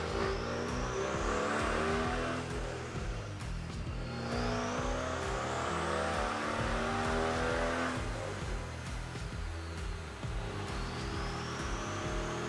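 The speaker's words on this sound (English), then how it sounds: "why is the car on a two-wheel drive dyno instead of an all-wheel drive?" A Ford Focus RS engine revs hard on a two-wheel-drive dyno. Loud, sustained close-up roaring climbs in pitch repeatedly, with several rising whining pulls in succession and no talking.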